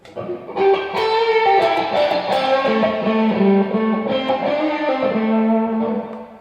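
Electric guitar through an amplifier with overdrive, a sustained distorted chordal phrase with notes ringing and shifting for several seconds, close and loud, fading at the end.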